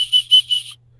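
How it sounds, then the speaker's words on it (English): A safety whistle built into a wrist compass is blown three times in quick succession, shrill and loud at close range, and then it goes silent. "It actually also has what they call a safety whistle."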